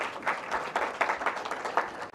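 An audience at a breakfast event claps together, a brief burst of many hands at moderate distance with an even, dense texture.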